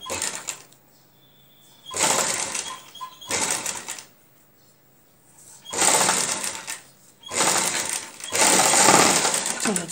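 A sewing machine stitches a neck piece in bursts of steady, loud mechanical whirring, several runs of a second or two separated by short quiet pauses, close up with no talking.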